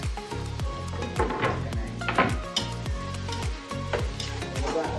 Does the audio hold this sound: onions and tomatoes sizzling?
yes